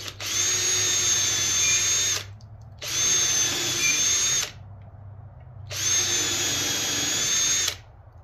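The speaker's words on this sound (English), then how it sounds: "Go ahead and drill through here." Power drill boring through cedar porch swing boards laid flat on a table, three loud steady bursts of whining motor about two seconds each, separated by short pauses, with no talk.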